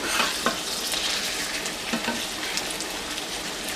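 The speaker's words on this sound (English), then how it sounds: "sear on the bottom side, just to kind of get them to brown up a little bit" Hamburger steak patties sear and sizzle in a pan, a steady broadband frying hiss with occasional crackles and spatula scrapes, close and continuous with no talk.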